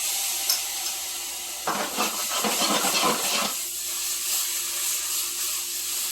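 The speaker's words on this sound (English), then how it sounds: "I got the pan nice and hot. I'm just going to add in a little bit of garlic, about a tablespoon." Garlic, about a tablespoon, hits a hot pan for piccata sauce, giving a steady hissing sizzle that swells into a louder crackling burst midway, then settles back to a constant hiss. No one speaks.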